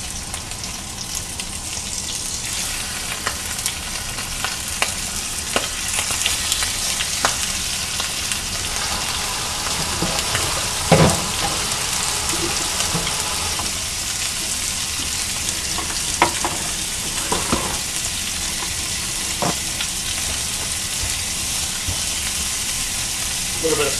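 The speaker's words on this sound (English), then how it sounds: "So, oil's right there in the pan getting hot. We'll put our squid in." Squid frying in hot oil in a pan, a steady loud sizzle and crackle running throughout with occasional sharper pops and stirring clatter, close up, with no voices.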